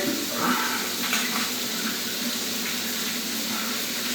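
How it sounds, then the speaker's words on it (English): Shower water running steadily during a head-shaving routine, a dense continuous hiss and splash that stays even throughout with no voices. "while you're just taking a shower, I know you guys can't see that part, but I literally dip in real quick"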